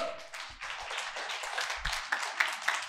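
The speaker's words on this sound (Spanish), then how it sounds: "Aplaudí más fuerte, más fuerte." A preacher's audience claps fairly softly and somewhat unevenly, with a loose mass of hand claps that swells slightly toward the end.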